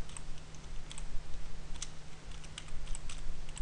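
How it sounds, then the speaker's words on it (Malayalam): A computer keyboard being typed on at close range, with irregular quick key clicks in short bursts over a low steady hum. "ആമിന എന്ന് ടൈപ്പ് ചെയ്ത് ഇത് സേവ് ചെയ്താൽ ഒരു പ്രാവശ്യമാണ് പ്രിന്റ് ചെയ്യുക"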